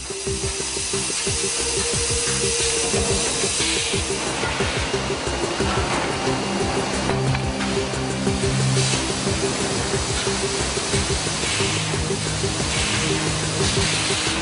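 A wood-cutting machine in a timber-processing line, with an optical reader positioning each piece over the cutting element. It gives a loud, continuous mechanical roar with repeated cutting strokes and clatter throughout.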